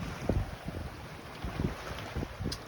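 Wind buffets the microphone aboard a sailboat beating close-hauled into an 11-knot breeze at about 2.8 knots, with faint water wash beneath; steady, rough and continuous, no voices.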